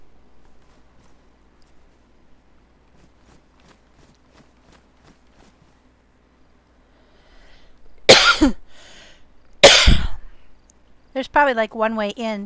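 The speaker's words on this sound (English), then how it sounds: "No, I coughed." A person with a cold coughs twice in sharp, loud bursts about a second and a half apart, after quiet footsteps in a swampy outdoor setting, with speech following.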